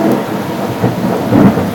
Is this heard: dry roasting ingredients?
no